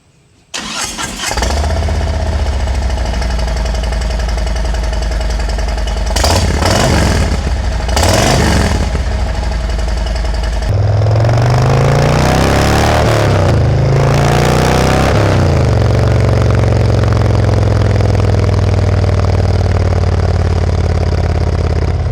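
A Harley motorcycle fitted with a Khrome Werks full exhaust, running a louvered baffle on the right side and a Ripper baffle on the left, starts and settles into a loud, steady idle with several sharp throttle revs rising and falling.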